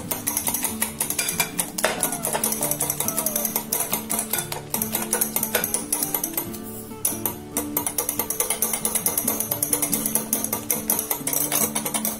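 Eggs and oil being beaten in a bowl for chocolate cake batter made with biscuits, a steady run of rapid clinking utensil strokes against the bowl over a low background hum, close and continuous with no talking.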